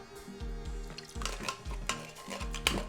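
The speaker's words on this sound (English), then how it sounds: "You just scoop it out with a spoon." A spoon scoops solidified coconut cream out of a can into a blender, a series of close, soft scraping scoops and dull taps against the container, several strokes in steady succession.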